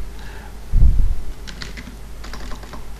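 Computer keyboard typing during Juniper JUNOS router configuration, short bursts of keystrokes with a soft thump, fairly close and alone without talk.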